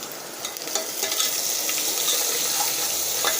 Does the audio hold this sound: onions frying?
yes